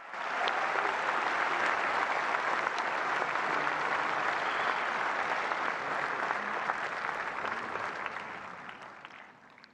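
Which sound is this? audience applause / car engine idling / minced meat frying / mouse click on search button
audience applause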